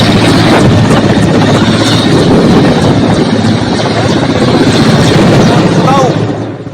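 A helicopter carrying Garud commandos on a cyclone rescue flight to Sri Lanka gives a loud, steady rotor and engine roar that holds for the whole stretch and fades slightly at the very end.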